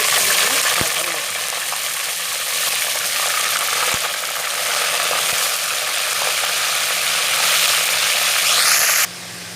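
Whole spices and large pieces of mutton sizzle in hot oil with a loud, continuous crackling hiss and a few sharp pops before the frying cuts off abruptly at the end.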